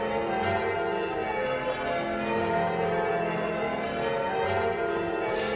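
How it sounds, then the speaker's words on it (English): Church bells ring in dense, overlapping peals with a rich sustained tone that fills the space at steady volume. "They look round at the sound of the church bells."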